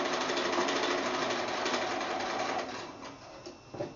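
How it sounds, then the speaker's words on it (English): A sewing machine runs a quarter-inch quilt seam on quilt block pieces, a steady loud mechanical whir that slows and tapers off near the end, with no voices. "We're going to go to the sewing machine and we're going to stitch them"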